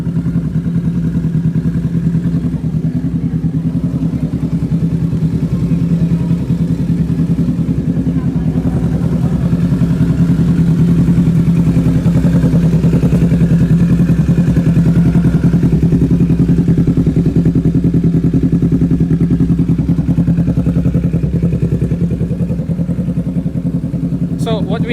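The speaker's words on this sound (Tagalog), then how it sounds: "But this is the full exhaust system." Kawasaki Z650 two-cylinder motorcycle fitted with a full exhaust system, idling close by with a loud, steady low rumble that runs throughout, a few clattering knocks over it.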